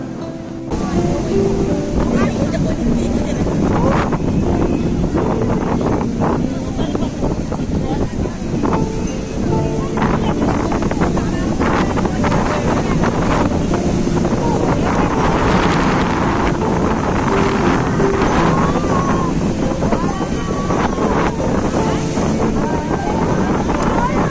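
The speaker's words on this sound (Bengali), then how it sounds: "দেখো কি সুন্দর ঢেউ আসছে" Sea waves wash in on the beach at Digha as steady wind buffets the microphone, a constant loud roar of surf and gusts filling the scene with no clear voices.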